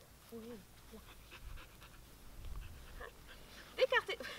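A dog pants softly and steadily during a training exercise, with a brief whimper and a few yips near the end, under low human voices.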